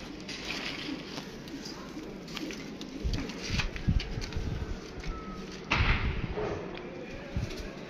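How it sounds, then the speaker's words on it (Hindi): Pigeons coo softly in a loft setting, low murmuring calls repeating under a steady background, with a few thumps and wing-flap bursts breaking in. "ये गए जी दोस्तों कबूतर माशाल्लाह आपके सामने है"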